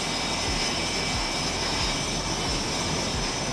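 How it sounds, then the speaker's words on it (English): Loud, steady roar of jet engines on an aircraft carrier deck during run-ups and tests, a continuous broadband rumble with a high whine holding through the whole stretch. "The rumble of jet engines occasionally pierces the din as technicians perform"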